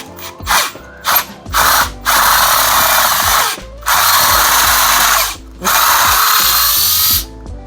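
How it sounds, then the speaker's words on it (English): A power drill boring a 1 3/8-inch bird hole in wood whirs loudly in three sustained bursts separated by short pauses, with some ratcheting mechanical clicks at the start. "We're going to go ahead and drill the bird hole"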